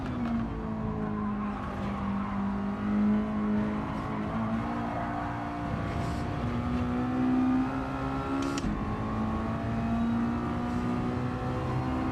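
A race car in a time-trial racing game accelerates through a corner after a downshift from fourth to third gear, its engine droning steadily with rising pitch and a brief flare of revs, loud and continuous.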